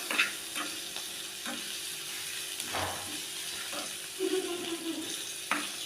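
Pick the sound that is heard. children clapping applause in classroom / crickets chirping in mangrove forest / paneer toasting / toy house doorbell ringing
paneer toasting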